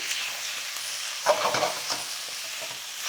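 Cucumbers fry in hot oil with a continuous close sizzle, a few brief crackles and stirring scrapes in the middle, no voices.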